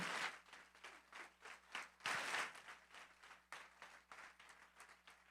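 Faint, distant applause from a church congregation, a steady patter of many hands clapping throughout with a brief swell partway through.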